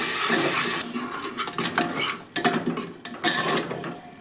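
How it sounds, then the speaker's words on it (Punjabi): A prepared spice paste roasting in a pan for potato curry, heard as a loud, close sizzle with busy spoon scraping and clanks against the metal pan, dropping briefly mid-way before stirring resumes, no talking. "ਪੇਸਟ ਜੋ ਆਪਾਂ ਤਿਆਰ ਕੀਤਾ ਸੀ ਤੇ ਇਹਨੂੰ ਹੁਣ ਆਪਾਂ ਚੰਗੀ ਤਰ੍ਹਾਂ ਦੇ ਨਾਲ ਭੁੰਨ ਲਵਾਂਗੇ"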